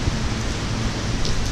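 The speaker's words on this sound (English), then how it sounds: "it's raining outside" Rain falling outside on St Kitts, a steady broadband hiss of drops on surfaces, fairly loud and continuous, heard from under cover.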